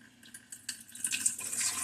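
Water poured into a dish for a pet ball python, a soft trickling and splashing that grows slightly louder toward the end, faint and close in a quiet room.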